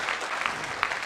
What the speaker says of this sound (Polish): Wielkie brawa dla Sylwii, jak na razie idzie gładko.